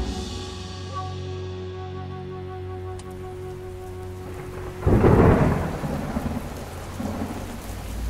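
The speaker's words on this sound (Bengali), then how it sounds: "প্রবল বাজ পড়ার শব্দ" Loud thunder crashes around the five-second mark over steady heavy rain, the downpour hissing continuously beneath a low rumble that swells then slowly fades, with a fainter second rumble shortly after.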